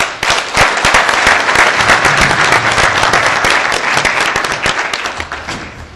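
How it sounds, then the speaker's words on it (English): An evening audience at a farewell event for a departing consul general breaks into loud, sustained applause that fills the room, then gradually fades toward the end. "Please give me a round of applause."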